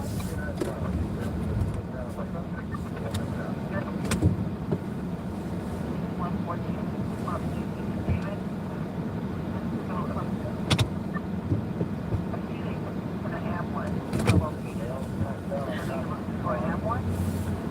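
New York City street traffic rumbles as a steady low background wash of passing vehicles, with occasional sharp clunks and faint distant voices in a live outdoor scene.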